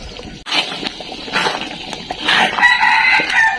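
A rooster crows close by in a village in a long, wavering call, with clucking and other fowl noises around it.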